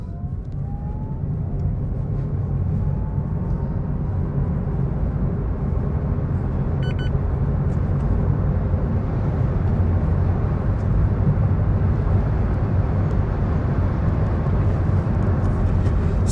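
A car with no sport mode, air conditioning off and no stability control accelerates hard from a standing start toward about 100 km/h, its engine a loud, steady, continuous roar that holds for the whole run with no talking.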